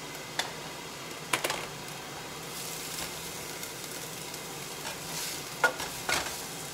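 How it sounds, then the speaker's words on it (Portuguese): Onions sauté in a pan for Brazilian fried rice, a quiet steady sizzle broken by a few sharp scrapes and clicks of a utensil, close by and without speech. "Cebola já deu aquela murchadinha, até deu uma dourada aqui."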